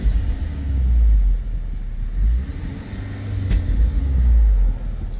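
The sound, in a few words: 2018 Volkswagen Golf engine burble on downshift in race mode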